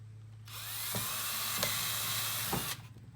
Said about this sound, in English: drill through the spine into the PVC pipe